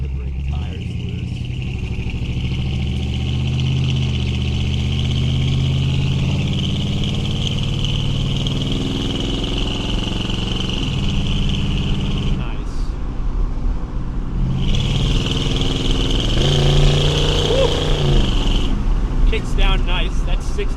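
A 1969 Buick Riviera accelerates down a road, its engine droning steadily and rising in pitch, with a brief drop and a renewed surge as the transmission shifts, heard from inside under a constant high whine.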